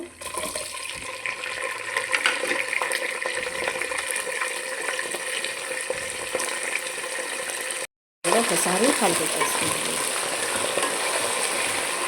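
Pieces of white brinjal sizzle in a hot pan, a continuous bright crackling fry with scraping stir sounds, broken by a brief silent cut before the sizzle resumes, fuller and louder.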